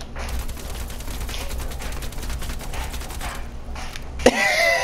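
AK assault rifle fire in a search and destroy video game match: a long, rapid automatic burst of close, steady shots, then a sudden sharp crack and a brighter burst of noise near the end.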